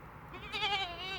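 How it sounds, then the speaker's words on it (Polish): A goat on a farm lets out one short, wavering bleat, fairly close and clear, over faint background noise. "I męczy kozy."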